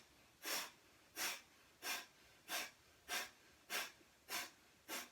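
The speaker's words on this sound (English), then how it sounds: "bellows breath. In and out through the nose forcefully." Forceful bellows breathing through the nose during a yoga session: eight sharp, evenly spaced breath bursts, close and quiet, with no talking.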